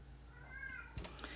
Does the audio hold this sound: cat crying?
yes